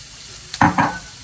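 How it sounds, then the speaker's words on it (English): Onions dropped into a hot pan to brown, two quick bursts of loud sizzling close together over a faint background, with no talking. "We're gonna also put our onions in. Let it all brown together."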